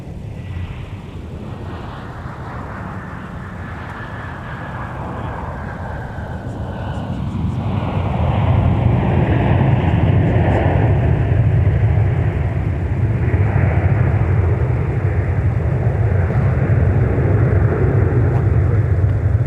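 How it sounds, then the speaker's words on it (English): A Delta airliner from Atlanta lands on runway 12 Right at Minneapolis–St. Paul airport, its engines a broad distant roar that swells after a few seconds and holds steady as a rumbling wash. "landing on the parallel runway in front of us, the south parallel, aka 12 right, Delta"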